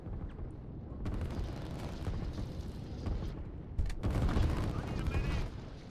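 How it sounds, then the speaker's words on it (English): Distant artillery and gunfire in a real-time strategy video game, a continuous rumbling wash of booms and crackling shots, swelling louder toward the end while a voice talks over it. "Severus has a lot of artillery that can obviously fire from the distance"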